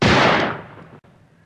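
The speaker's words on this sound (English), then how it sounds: "Someone's shooting!" A single loud gunshot from someone shooting by a lake: a sharp bang with a booming tail that fades over about half a second, then quiet background.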